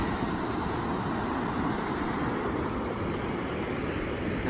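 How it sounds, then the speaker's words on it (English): Waves breaking at the mouth of Rio Manaubo, a brown river meeting the sea, giving a steady, broad wash of surf that holds level and close throughout with no talk over it. "But the waves are coming over."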